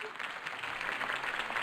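Crowd applause follows a campaign speech in a Batman video game, a brief burst of clapping at moderate level.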